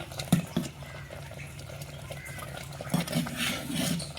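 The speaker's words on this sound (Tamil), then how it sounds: "கொதிச்சு இந்த மாதிரி கொதிச்சு வேகும்" Varagu millet rice bubbles as it boils in a pot, a soft continuous simmer with a few louder bloops and light clinks near the start and toward the end, no voices.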